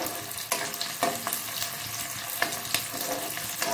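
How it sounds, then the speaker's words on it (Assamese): Onions frying in a pan until browned, a soft steady sizzle with occasional sharper crackles and stirring scrapes, close and fairly quiet, no talking. "এইখিনি ভালদৰে পিঁয়াজটো যেতিয়ালৈকে ৰঙচুৱা নহয় তেতিয়ালৈকে ভাজিম"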